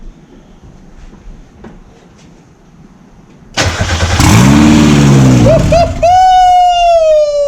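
A few quiet seconds, then a turbocharged Mazda Miata engine cranks and roars to life, revving hard with a rising, whistling turbo whine climbing over the idle.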